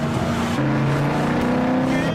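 A car engine drones steadily while the car is driven, with tonal engine notes shifting in pitch, close and fairly loud.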